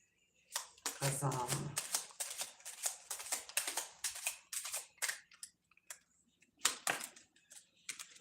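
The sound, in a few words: shuffling tarot cards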